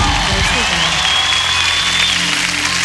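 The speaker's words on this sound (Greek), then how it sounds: "Δώστε ένα χειροκρότημα έτσι γλυκό." Audience applause at a live outdoor beach concert at Vouliagmeni's A' Plaz Voulas in 2003, a dense continuous roar of clapping from a large crowd, loud and unbroken, with a faint whistle or tone gliding above it.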